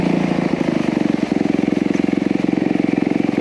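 A Honda CRF250R dirt bike engine runs steadily and close by, its rapid pulsing exhaust beat holding an even rhythm throughout with no talking.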